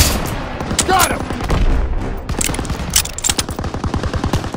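Machine gun fire in a Call of Duty WWII battle: loud, rapid bursts and scattered shots run throughout, mixed with booms and shouted voices.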